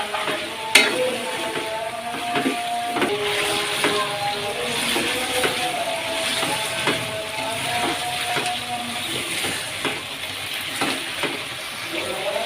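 Chicken frying in a wok, a steady close sizzle with repeated scraping knocks of a silicone or wooden spoon stirring through it, no voices.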